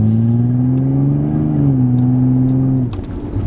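Toyota Cressida engine revving in second gear, a steady low muffled drone held loud and close for nearly three seconds, its pitch rising slightly before dropping away as the revs fall.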